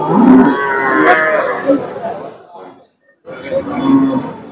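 A Jersey cow at a cattle market in Punganur, Andhra Pradesh, gives a loud, long, drawn-out moo close by, then falls quiet briefly before lowing again just as strongly.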